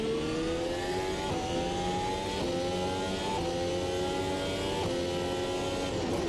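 A Formula Ultimate Gen 2 race car in the Automobilista 2 racing game gives a loud, steady engine howl throughout, its pitch climbing and then stepping down at a few gear changes. No one speaks.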